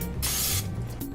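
Two short hissing bursts of cooking spray onto a waffle cone maker grid, the first longer, with a quiet hum in the background.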